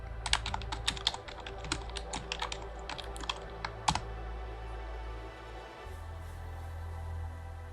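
Rapid typing on a computer keyboard in a close, quiet ASMR role-play setting: bursts of crisp key clicks for about four seconds, then a steady low hum with no talking.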